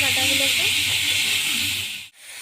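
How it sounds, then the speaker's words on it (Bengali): Pumpkin stalks fry lightly in hot oil after being coated with turmeric, giving a steady, loud broadband hiss with faint background voice, then a sudden brief drop near the end. "এবার ওই তেলের মধ্যে আমি ডালটাগুলোকেও ভেজে নেব, হালকা করে ভেজে নেব"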